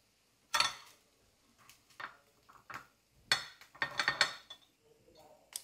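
Small fritters of sabudana and bhagar are flipped one by one in a metal appe pan, producing a series of close, sharp metallic clinks and scrapes with short quiet gaps between them, and no talk.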